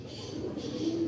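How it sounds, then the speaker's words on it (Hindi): A large breed female pigeon coos softly, close by, in a steady low murmur with a brief rising note near the end, held in hand during inspection. "और बहुत वड्डी कबूतरी है जनाब"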